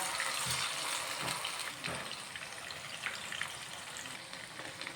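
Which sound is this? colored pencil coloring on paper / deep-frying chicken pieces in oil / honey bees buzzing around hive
deep-frying chicken pieces in oil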